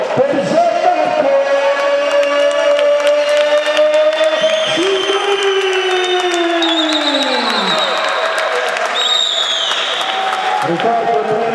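A loud arena crowd cheers and applauds continuously as a boxer enters for an amateur bout, with a sustained roar, whistles and music layered throughout.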